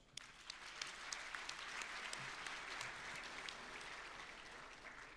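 Audience at a Fenerbahçe club gala in Ankara breaks into applause, a sustained crowd clapping that swells quickly and stays fairly even, heard at some distance in a large hall.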